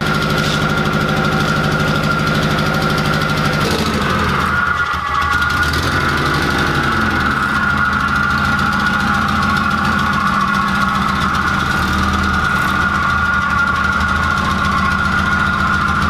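Mazda Miata engine idling steadily with an exhaust leak, a continuous close rumble with a faint ticking pulse and a droning tone throughout, the idle shifting slightly after a few seconds.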